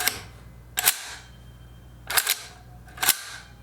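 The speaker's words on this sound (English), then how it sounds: "when you pull back on the charging handle and let it go, it makes a very satisfying noise" G&G GR14 airsoft rifle charging handle pulled back and let go three times, each a crisp metallic snap-clack, close and loud, separated by quiet pauses.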